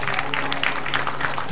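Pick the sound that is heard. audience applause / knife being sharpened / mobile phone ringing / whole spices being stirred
audience applause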